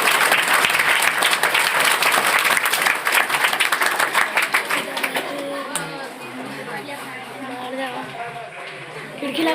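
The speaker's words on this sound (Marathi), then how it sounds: "एकदम तुमच्यासाठी जोरदार टाळ्या वाजल्या" Loud, dense applause from an audience at a school skill day event fills the room, steady for several seconds before thinning out, with voices starting to talk toward the end.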